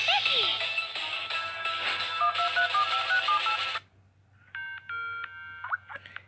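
Telephone keypad tones dial a number in an SMG4 cartoon, a quick run of distinct beeps over cartoon background noise, then a short pause and a few more tone bursts.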